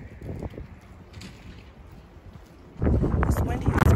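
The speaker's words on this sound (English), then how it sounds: "It's windy as fuck." Low rumbling wind buffets the microphone, growing much louder and gustier near the end, with faint voices underneath.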